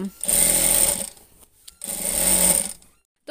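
A sewing machine stitches a jhura kantha quilt in two loud, steady bursts of rapid whirring, separated by a short pause.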